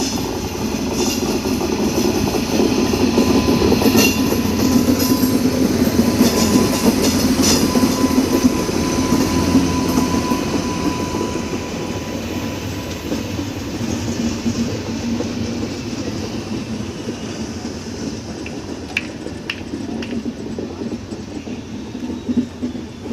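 The AP Sampark Kranti train runs on the Sitafalmandi A Cabin to Lalaguda Loco Shed chord line, rumbling loudly and close by with rhythmic wheel clatter that eases off slightly toward the end.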